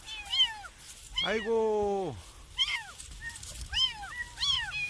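A small stray kitten mews repeatedly in short, high-pitched cries, close by, while a voice exclaims in between.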